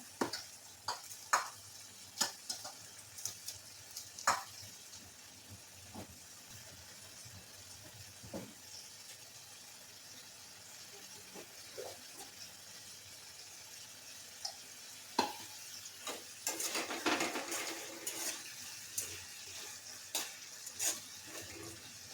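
A low, steady sizzle of spices frying in oil continues throughout, with scattered clicks and taps of a utensil, swelling into louder crackling near the end as boiled potato is added.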